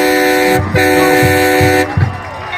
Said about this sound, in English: Air horns going on